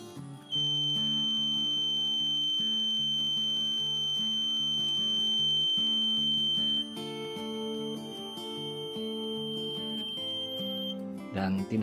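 The short-circuit buzzer on an XL4016 9A 1.25–35V DIY step-down converter sounds a steady, piercing, high-pitched tone for about six seconds, then cuts out, over continuous background music.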